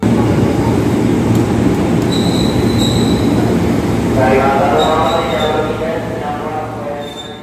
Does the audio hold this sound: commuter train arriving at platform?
yes